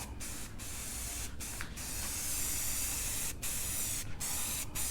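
Spray paint hisses in bursts while a first coat goes onto a wooden farm sign, several close steady sprays separated by short pauses.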